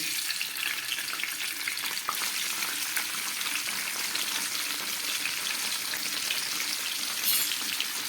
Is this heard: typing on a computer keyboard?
no